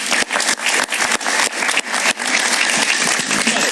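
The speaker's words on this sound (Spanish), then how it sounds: "Un aplauso para él." A television studio audience claps steadily in a dense, continuous burst of applause that holds for a few seconds, with no talking above it.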